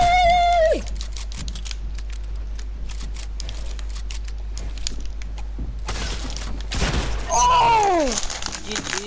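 Bursts of rapid gunfire in Fortnite crackle across a busy battle soundscape, with chirpy effect tones at the start and near the end.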